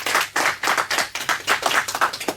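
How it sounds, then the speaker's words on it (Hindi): Audience applause for a junior quiz show winner, a steady burst of many hands clapping close and loud, with no talk over it. "एक बार जोरदार ताली हो जाए निष्ठा भारद्वाज के लिए।"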